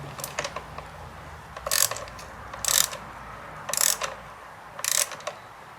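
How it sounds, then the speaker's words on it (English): A ratchet wrench working on the map sensor housing of a 2002 Ford Taurus, giving four short bursts of rapid clicking about a second apart, fairly close and moderately loud, with no talk. "fast forward it if you guys don't want to watch him turning the wrench."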